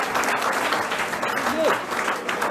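Audience in a career guidance session claps for a student who hopes to become a painter: a steady, dense burst of many hands clapping together, fairly loud throughout.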